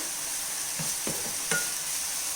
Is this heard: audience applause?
no